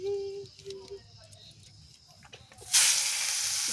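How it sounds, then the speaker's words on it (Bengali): Grated carrots hit hot ghee in a kadai for carrot halwa, bursting into a sudden loud, steady sizzle after a quiet stretch of faint voice and small kitchen sounds. "ঘি দিয়ে গাজরটাকে সুন্দর করে ভেজে নেব"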